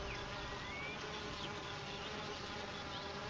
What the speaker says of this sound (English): They even fan the hive with their wings to keep it cool on a hot summer day.